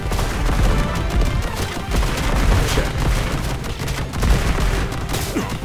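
Rapid weapon fire in the Contra Operation Galuga video game, an overload attack, rattles in a dense continuous barrage of shots and booms, loud and unbroken throughout.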